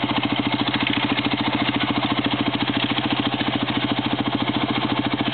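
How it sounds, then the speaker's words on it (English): A tractor engine running on a track gives off a loud, steady, rapidly pulsing mechanical drone that holds even throughout, close up and with no voices. "Tractor's picking up speed on the right corner."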